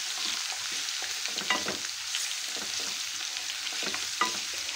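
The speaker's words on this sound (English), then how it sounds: "Stir it for about a minute till the rawness of the ginger and garlic disappears." Ginger-garlic paste and cumin seeds sizzle in oil while a utensil stirs and scrapes the pan in uneven strokes, close and fairly quiet, with no talking.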